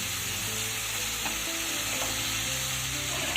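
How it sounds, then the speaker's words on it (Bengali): Spice paste fries in oil in an open pan while being stirred, giving a continuous dense sizzle with a few scraping stirs and no talk. "আরও 1 মিনিট মতো আমি খোলা অবস্থায় কষিয়ে নিলাম।"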